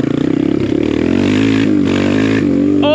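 BBR KLX170RF V1 dirt bike engine revving. A loud, close, buzzy exhaust note holds high and steady for about three seconds, rising slightly in pitch at the end.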